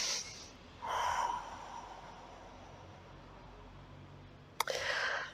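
Audible breaths during a gentle energy and posture exercise: a sharp nasal intake near the start, a longer airy exhale, then a quick snort-like breath and another exhale near the end, close and alone with no talk.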